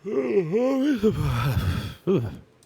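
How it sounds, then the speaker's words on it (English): A long, drawn-out human yawn with a rising and falling voiced moan, then a brief second catch of breath at the end, close to the microphone. "Yawning attack out of nowhere."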